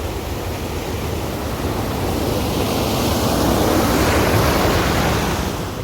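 Water rushes loudly and continuously, released to drive a tahini stone mill, forming a dense, steady roar that swells slightly in the middle with no voices over it.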